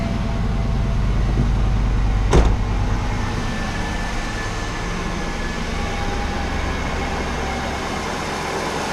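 A 1991 Cadillac DeVille engine idles steadily with a low, even rumble, broken once by a brief sharp knock early on.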